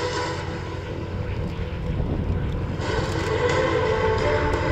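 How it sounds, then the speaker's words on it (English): A Canadian Harvard propeller airplane landing at an air show, its engine drone rumbling steadily and building slightly in loudness across the few seconds, heard alone without talk. "You see the pilot has landed, carrying the airplane well down the runway before..."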